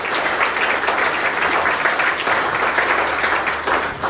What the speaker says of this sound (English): One more time, a great round of applause for Scott and Joe.